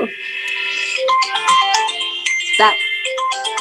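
A phone ringtone plays a bright, repeating melodic tune, close and fairly loud, sounding during an online class with a voice faintly underneath.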